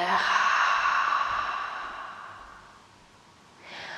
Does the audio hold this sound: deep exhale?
yes